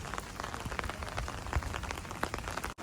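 Steady rain patters on a hard surface, dense drops falling throughout with occasional louder splats nearby.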